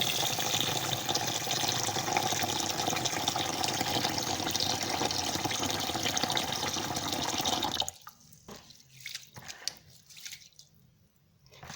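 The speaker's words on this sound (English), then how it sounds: "So I'm doing the first wash" Rice being washed by hand in a bowl of water, a steady wet swishing and sloshing that runs continuously and fairly close, then breaks off into a few scattered splashes and drips.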